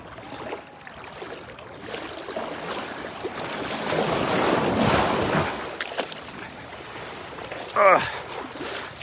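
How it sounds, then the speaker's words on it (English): Small waves washing onto a sandy Gulf beach at Delnor-Wiggins after heavy rain, a steady wind-blown surf wash that swells in the middle and ends with a brief louder splash near the close, with no talk. "These little waves here just caught me there, made it a little difficult to get out."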